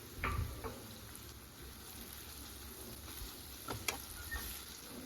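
Ivy gourd curry being stirred in a hot pan with garlic chili paste, a soft steady sizzle with a few scraping strokes and light clinks close by, no talking.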